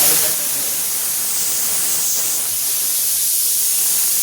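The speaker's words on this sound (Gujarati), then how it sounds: "બંધ કરો ને કુકર." A kitchen pressure cooker lets out a continuous, fairly loud hiss of steam, a broad airy rush that holds steady for several seconds with no voices over it.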